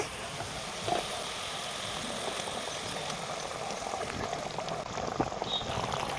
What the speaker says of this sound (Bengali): ঝোলটা ফুটে গেছে এবার দেবো মাছ